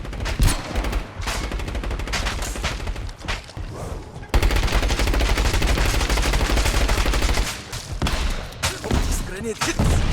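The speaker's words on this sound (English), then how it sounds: "Grenade hits!" Sustained gunfire and explosive bursts from the action game Scavengers, with a sharp jump in loudness midway as a grenade detonates amid continuous shooting; voices talk over the battle.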